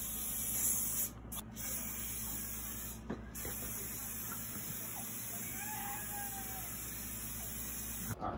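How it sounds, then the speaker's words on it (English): A can of cooking oil spray hisses in short bursts close by, coating a pan before brownie batter goes in, against a quiet room. "now I'm gonna spray it with oil so it doesn't get sticky"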